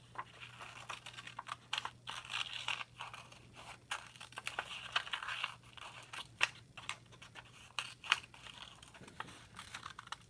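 Paper being cut by hand with scissors for a cut-paper design, giving a steady run of close, crisp snips and crinkles with a faint hum underneath.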